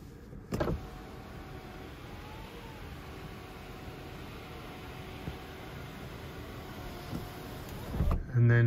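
The electric moonroof of a BMW 540i whirs faintly and evenly as it moves, with a click at the start and a thump and click at the end, inside a quiet car.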